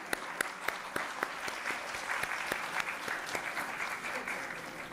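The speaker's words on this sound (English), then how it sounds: "A big round of applause, please" An audience at a women's conference felicitation ceremony applauds, a moderate bed of clapping with sharp individual claps popping out near the listener at irregular intervals.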